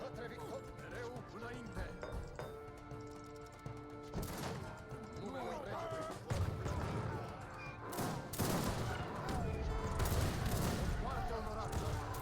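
Cannon and musket fire crackle through a battle in the Wars of Liberty strategy game, with volleys and heavy booms building in density and loudness toward the end, while a voice talks over the fighting.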